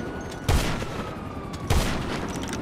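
Two loud, sharp gunshots about a second apart in GTA Online, heard over a steady background of in-game ambience.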